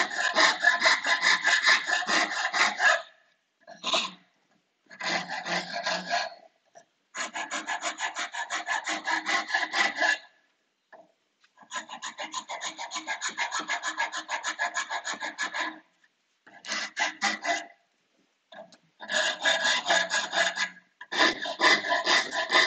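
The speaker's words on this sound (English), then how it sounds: "I'm going to use my rasp and just hack into that." A hand rasp files and carves into wood, a rough scraping in long, rhythmic bursts of strokes broken by short pauses, close and clear with no voices.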